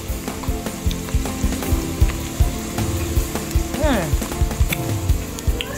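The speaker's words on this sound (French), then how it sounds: "je suis en train de continuer à tourner les oignons" Onions fry in a pan for rice with beef and shrimp, a steady loud sizzle cut by rhythmic scraping stir strokes throughout.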